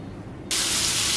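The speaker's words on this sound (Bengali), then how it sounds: "ওই চুলায় মশলাটা কষানো হচ্ছে, আর এই চুলায় মাছটা ভেজে নিচ্ছি।" Rohu fish frying in hot oil while spice paste cooks down in a second pan: quiet for half a second, then a sudden loud, steady hiss of sizzling that holds to the end.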